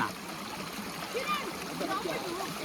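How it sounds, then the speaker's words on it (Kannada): A small stream of water at Bandaje Falls, Dakshina Kannada, flows and splashes nearby in a steady, soft rush, with a few faint bubbling trickles. "ಈಗ ಒಂದು ವಾಟರ್ ಫಾಲ್ ಸಿಕ್ಕೈತೆ."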